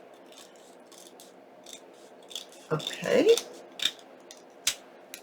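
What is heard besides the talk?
scissors cutting paper for file folder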